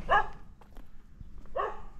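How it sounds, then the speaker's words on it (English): Dogs bark outdoors at night in Mutwapa, Kenya: two short, fairly close barks spaced about a second and a half apart over a low background hum, with no speech. "Look at the dogs."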